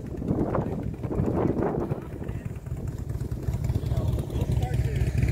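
Motorcycle doing a slow cone weave drill, its engine giving a low, steady rumble close to the microphone, with wind noise mixed in and a voice talking over it.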